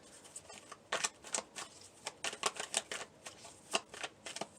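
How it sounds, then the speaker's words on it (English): Tarot cards are shuffled close by in a quiet room: a rapid run of soft riffling slaps and flicks comes in uneven clusters, with no talk. "We are going to pull some cards for clarity here for Aries."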